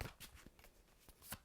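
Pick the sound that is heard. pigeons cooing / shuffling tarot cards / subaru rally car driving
shuffling tarot cards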